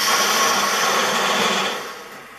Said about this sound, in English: initially cutting an inset to fit onto my chuck and using a jig that I made